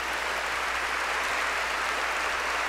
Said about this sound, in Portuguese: Vocês não querem dar uma salva de palmas para Nossa Senhora de Nazaré?